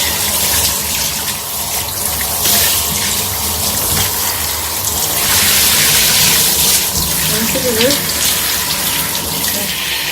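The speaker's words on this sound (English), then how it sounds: "I'm just gonna use water to wash away all the bleach" Tap water runs and splashes continuously, a steady loud gush with shifting spatter as bleach is rinsed out of a lace frontal wig, a faint voice briefly audible.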